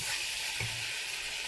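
Seasoned and salted samosa vegetable filling sizzling in a pan, a steady close frying hiss with one brief scrape of a spoon partway through.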